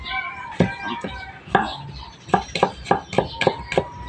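A small onion being chopped on a board, a run of sharp knife knocks that quickens into a steady close rhythm near the end.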